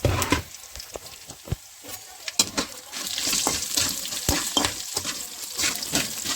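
Tomato chutney ingredients frying in a pan, served alongside ragi mudde, with a spatula scraping and clacking against the metal over a steady, close sizzle.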